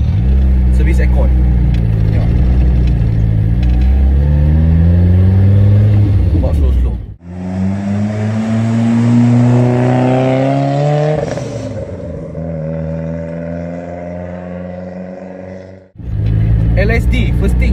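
A Toyota AE86 engine revs while the car is driven, its pitch climbing and falling through several strong, close pulls with brief dips between gear changes.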